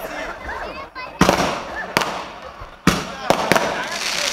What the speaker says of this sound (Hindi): 80 है ये, 80 पटाखे हैं एक साथ।